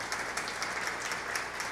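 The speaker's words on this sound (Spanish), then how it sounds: "un fuerte aplauso para Lucrecia y para Johnson" Steady audience applause for two guests at the opening of an artists' talk, a dense even wash of clapping that holds at a moderate level, distant and alone, with no voices.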